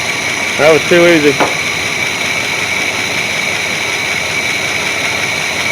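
A Chevy C30 squarebody truck engine idles with a steady, even hum and a high whine above it, continuous and fairly close, while someone speaks briefly near the start.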